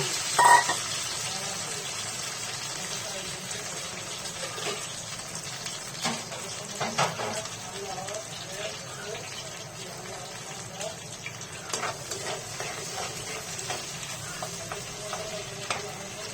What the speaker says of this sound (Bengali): প্রথমে তেল বসিয়ে দিয়েছি প্যানে। এখন পেঁয়াজ রসুনগুলো একটু